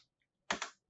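Keys clatter on a computer keyboard while CSS code is entered: a quick pair of close, sharp typing bursts after a silent pause, with another keystroke cutting in at the very end.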